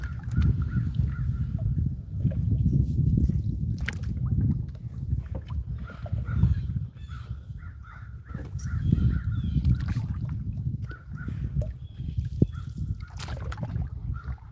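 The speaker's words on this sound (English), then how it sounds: "I think they're ravens because they're huge." Large ravens cawing over a lake during solo canoe bass fishing, repeated harsh calls at a moderate distance above soft water sloshing against the canoe and low wind rumble.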